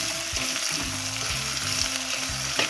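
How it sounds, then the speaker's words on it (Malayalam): Onions with salt sautéing in a pan for a Kerala-style mackerel curry, a dense close sizzle with repeated spatula strokes scraping through, steady and unbroken, no speech. "ഇനി നമുക്ക് ശരിക്കും വഴറ്റിയെടുക്കാം."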